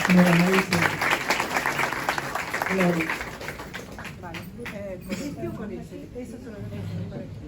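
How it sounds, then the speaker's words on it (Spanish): Audience at an Ibero-American Design Biennial ceremony gives a burst of applause for the award winners, loud at first and thinning out, with a voice speaking over the tail end. "yo quisiera un aplauso para ellos que son premiados de esta Bienal Iberoamericana de Diseño"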